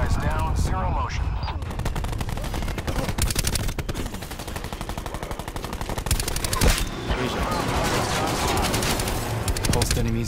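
Rapid machine-gun fire from an aerial gun run in Call of Duty Black Ops 4 Domination mode, dense sustained bursts with scattered shots and a voice speaking over the shooting.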